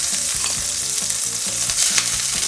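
Shrimp fry in butter in a hot pan, a dense, close sizzle with quick stirring taps running throughout, no voices.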